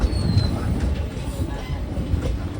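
Ratnachal SF Express train rolling onto a railway bridge, a steady loud rumble of wheels and carriages with faint rail squeal, heard from on board.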